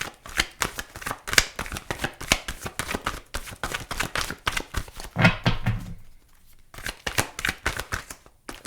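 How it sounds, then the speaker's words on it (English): Well-worn tarot cards, used for about 27 years, shuffled and bent in a rapid run of crisp riffling flicks, briefly pausing with a softer rustle before the fluttering resumes, close and alone. "I'm bending my cards"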